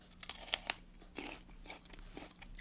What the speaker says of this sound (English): take a nice crunchy bite and eat the whole pea